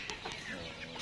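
A chicken clucks faintly in short repeated bursts over a dense, noisy background for about a second.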